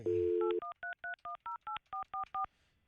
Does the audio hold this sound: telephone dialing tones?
yes